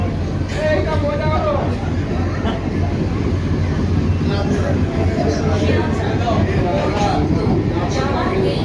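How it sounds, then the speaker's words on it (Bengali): An air-conditioned Bongaon–Sealdah local train pulls out of Madhyamgram station. A steady, dense rumble of wheels and motors fills the coach, and passengers chatter in the background throughout. "আমাদের ট্রেন এখন মধ্যমগ্রাম স্টেশন ছেড়ে দিল"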